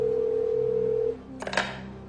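A telephone line tone holds steadily, then cuts off and gives way to a short burst of clicks and connection noise as the call goes through; no one speaks.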